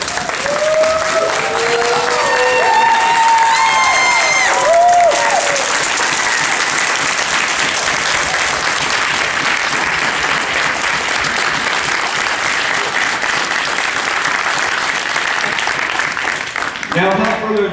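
An audience gives a standing ovation at a horror host hall of fame event. Loud, sustained crowd clapping fills the room, with a few brief vocal sounds early on.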